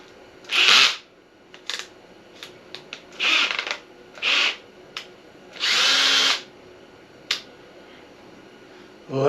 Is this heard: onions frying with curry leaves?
no